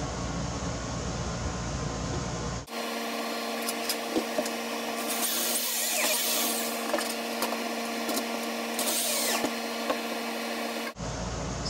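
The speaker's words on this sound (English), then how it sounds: "So I'll put some more screws and that little guy's done." A power drill drives screws into wood on a beach house rafter, a steady whining motor run lasting several seconds with grinding bursts, fairly close and alone.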